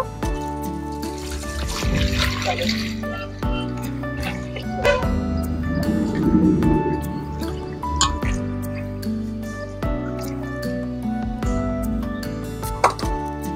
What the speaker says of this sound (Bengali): শুটকি মাছগুলো এখন আমি ভালোভাবে ধুয়ে নেব।